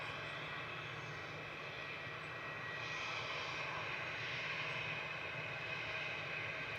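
An aircraft taxiing out at Manchester Airport: a faint, steady engine whine and hum heard from a distance, continuous and unbroken, with no talk over it.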